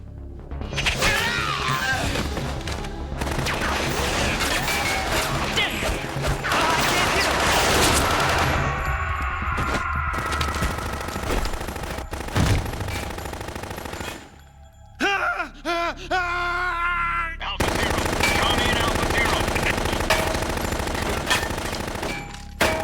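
Rapid machine gun bursts from the video game Metal Gear Solid 2, loud and dense with crashing impacts, broken by a short lull midway before the gunfire resumes.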